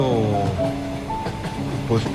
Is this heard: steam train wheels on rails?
yes